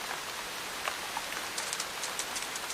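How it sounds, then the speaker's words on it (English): Steady rain falls in the wet western reaches of Tasmania, a dense continuous hiss with scattered brighter drops tapping out close by, heard alone with no voices. "It rains here nearly every day."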